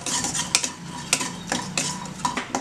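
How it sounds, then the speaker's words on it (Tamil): Dried coconut roasting in a pan, stirred with a utensil that knocks and scrapes against the metal in irregular close clicks over a soft background hiss. "நல்லா இந்த கொப்பரைக்காய் எடுத்து வச்சோம் இல்லைங்களா, அதில் வந்து கொஞ்சமாக எடுத்து இதில் போட்டு ஒரு வறுத்துடலாம்"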